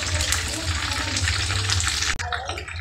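Chicken pieces fry in hot oil for restaurant-style chicken manchurian, giving a dense, loud, continuous sizzle. The sound cuts off abruptly near the end, then a quieter bubbling follows.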